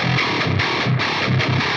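Heavily distorted metal electric guitar pitch-shifted down to double drop C through a Line 6 HX Stomp, playing tight palm-muted chugs in a syncopated djent rhythm, loud and alone.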